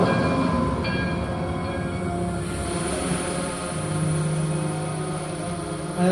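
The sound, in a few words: tram running through old town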